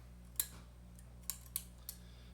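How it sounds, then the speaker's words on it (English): Scissors snip through a rope during a comedy magic and juggling act, four short crisp cuts spread over a couple of seconds, quiet and close, with no voices. "We're just gonna take the magic scissors and cut the rope"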